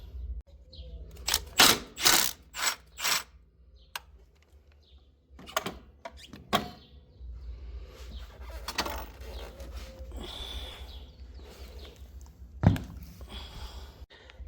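A Milwaukee power tool with a T30 Torx bit backs out the battery hold-down bracket on a 2016 Nissan Versa, giving several short, loud mechanical bursts in the first few seconds, then quieter clicks and handling noise.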